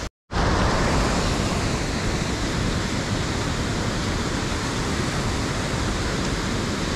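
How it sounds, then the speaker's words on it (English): Jack's River waterfall pours in the wilderness, a loud steady broadband rush heard close by that starts after a brief moment of silence and holds constant throughout. "Goodbye, waterfall."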